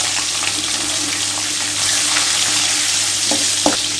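Cashews and green chillies fry in hot oil and ghee with cumin, a steady close sizzle with a few sharper crackles and stirring knocks near the end; no talking.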